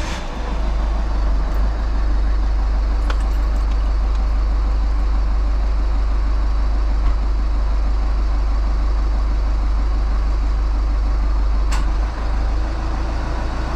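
A 1.4/1.6 HDI diesel car engine idles close by with a steady, loud, low rumble and faint clattering texture, holding even throughout.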